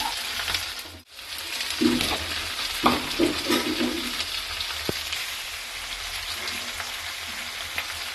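Tomatoes going into a pan of ground cumin, garlic and dried red chilli paste for a Bengali bata fish curry, frying with a steady close sizzle and a few scraping stirs, no talk.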